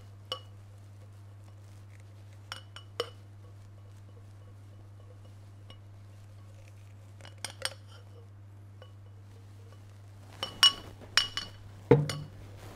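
Utensil scraping the bottom of a mixing bowl of cream mixture for an Easter number cake: sparse light clinks over a low steady hum, then a busier cluster of scrapes and knocks near the end.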